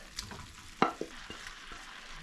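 Food fries in a pan as a utensil scrapes and stirs, giving a few sharp knocks and scrapes over a soft sizzle in a quiet setting.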